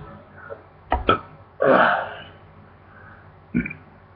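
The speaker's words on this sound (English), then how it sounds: "hold on, cause I feel a burp coming" A few short throaty hiccup-like bursts followed by a longer, loud burp, then one more brief gulping sound, close to the microphone.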